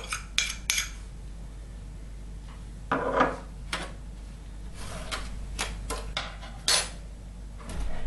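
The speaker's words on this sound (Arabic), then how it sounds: "خلطوا الكاكاو مع السكر" Cocoa and sugar being mixed in a bowl with a utensil: sparse clinks and scrapes against the bowl, with short bursts of clatter separated by quiet stretches, close and fairly faint, with no talk.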